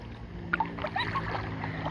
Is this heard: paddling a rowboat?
yes